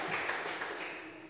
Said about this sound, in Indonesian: Mbak Meta, Mbak Nafa, Mbak Serlita, tepuk tangan buat mereka.